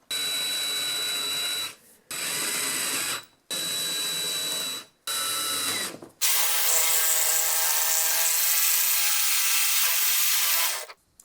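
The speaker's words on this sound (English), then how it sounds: "the first thing I'm going to do is drill a hole at each corner" A power drill bores holes in a fiberglass trailer side door in four loud, close bursts of about two seconds each, then one long steady run of higher-pitched whine lasting about five seconds.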